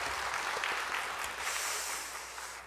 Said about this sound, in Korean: 우리 말씀 전해주신 목사님께 우리 박수로 감사의 마음을 전하도록 하겠습니다